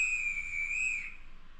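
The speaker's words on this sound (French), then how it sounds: "F4, c'est le sifflet du contrôleur" A conductor's whistle from a train simulator game sounds as a single sustained shrill tone lasting about a second, steady and clear, then trailing off against a light hiss.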